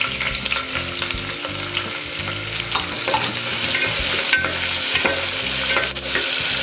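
Onions and green chillies frying loudly in hot oil for a Telangana-style mutton curry, a dense continuous sizzle broken by repeated scraping and knocking of a ladle stirring the pan.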